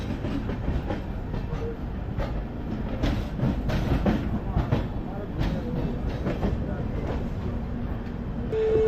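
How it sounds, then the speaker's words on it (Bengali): The 12369 Kumbh Express pulls away from a station near Lucknow, with steady clattering of wheels and a loud continuous rumble heard from inside the train, and voices talking faintly. "বলতে বলতেই ট্রেন ছেড়ে দিয়েছে, সিগন্যাল হয়েছে"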